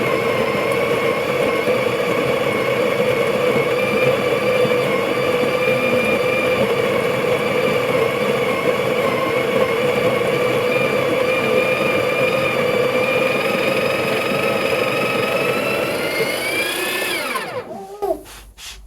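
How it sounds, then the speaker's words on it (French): A home coffee machine runs with a continuous, loud mechanical whir and hum, steady and close for most of the stretch before its pitch sweeps and the motor winds down near the end. "c'est le bruit de la machine à café"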